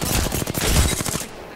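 Rapid automatic gunfire from the video game Apex Legends rattles out in a dense, loud burst of closely spaced shots, then cuts off abruptly.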